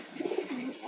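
A pigeon coos softly nearby in a short, low, rolling call, with no one talking.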